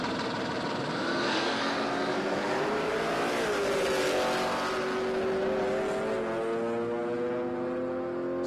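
A drag racing car at Palmyra Raceway in a road trip drag challenge makes a pass down the strip, its engine a loud sustained roar that rises in pitch through the gears, steady and without speech.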